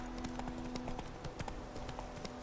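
Roach the horse gallops in The Witcher 3, quick repeated hoofbeats drumming in a steady rhythm at moderate volume over low game ambience.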